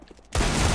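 A sudden loud burst of automatic gunfire in Counter-Strike on the Train map erupts after a near-silent lead-in and stays dense and sustained to the end.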